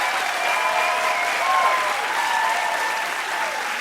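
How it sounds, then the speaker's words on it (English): Studio audience at a late-night talk show applauding and cheering, a loud, continuous wash of clapping with whoops and shouts layered on top, steady throughout. "you guys always cheer for the guests"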